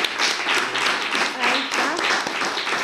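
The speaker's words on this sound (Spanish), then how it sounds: "yo les voy a pedir a todos simplemente que nos aplaudamos entre todas" Audience applause at a gathering, a dense, steady wash of many hands clapping, with a voice speaking briefly over it.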